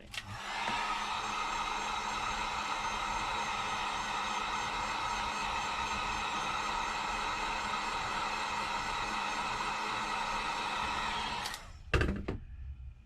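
A heat gun blows steadily on a Samsung Galaxy S10 Plus phone during a front screen repair, a continuous close airy roar lasting about eleven seconds before cutting off, followed by a brief knock and handling noise.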